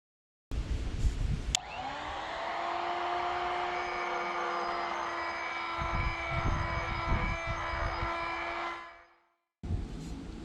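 An angle grinder whines steadily at close range while grinding a turbo exhaust downpipe flange on a Toyota Starlet 4E-FE build, with the pitch dipping under load before spinning down; a brief burst returns at the end.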